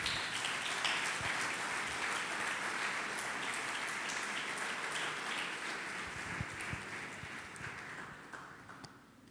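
A church congregation applauding together, a steady dense wash of clapping that holds through most of the stretch and slowly fades toward the end, with no talking over it.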